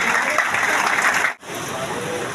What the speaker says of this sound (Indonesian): mari kita sambut dengan tepuk tangan yang paling meriah